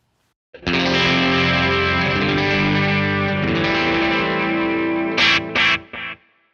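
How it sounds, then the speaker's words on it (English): A sustained distorted electric guitar chord rings out with a quick doubling echo, followed by a few short repeated stabs at the end. "Lots of really cool stuff you can do with just really quick double tracking, you know, slapbacky sounds."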